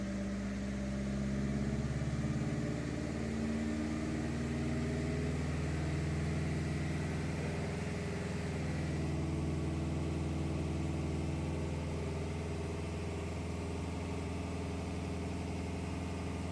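IAG 750 engine with a Blouch turbo, running flex fuel on a Link G4X ECU, idles with a steady, loud low rumble and humming harmonics that stay level throughout, with no voices.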